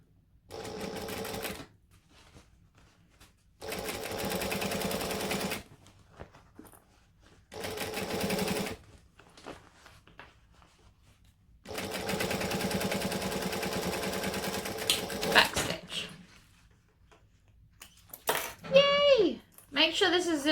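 Sewing machine topstitching a crossbody bag, running in four steady bursts separated by pauses, close and moderately loud, with a brief voice at the end.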